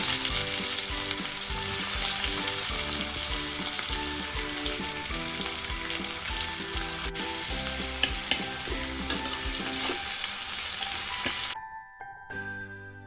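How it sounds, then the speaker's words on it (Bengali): Chopped onions fry in oil for fish egg bhurji, producing a loud, continuous sizzle with stirring beneath background music, then cutting off abruptly near the end. "এবার আমি কুচিয়ে রাখা পেঁয়াজটা দিয়ে ভালো করে ফ্রাই করে দেবো।"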